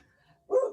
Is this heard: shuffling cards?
no